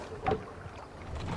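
A ship rowed across open water in Assassin's Creed Valhalla, heard as a faint, brief splash of oar strokes with soft wind and water hiss.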